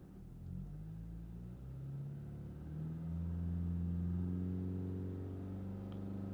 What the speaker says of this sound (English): so I just take it up to 3000 RPM, really